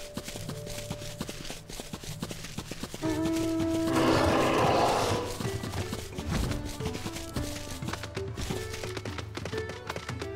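Leviathan's horse mount in Final Fantasy XIV clops along in a steady rhythm of hoofbeats, loud and close, over layered game music and ambient tones. A brief bright swell rises midway through.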